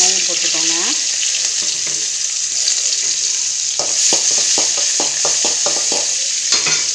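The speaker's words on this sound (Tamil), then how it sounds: "எண்ணெய் சூடாகிச்சு கடுகு போட்டுக்கோங்க." Mustard seeds hit hot oil in a kadai and crackle with a continuous hiss and a run of sharp popping bursts, after a short stretch of voice at the start.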